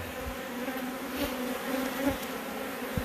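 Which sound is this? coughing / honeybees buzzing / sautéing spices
honeybees buzzing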